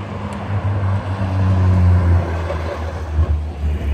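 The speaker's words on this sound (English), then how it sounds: "Why do all the loud cars go by when I'm on" A loud car passing close outside, a heavy low engine rumble swelling and fading across a few seconds with no talking over it.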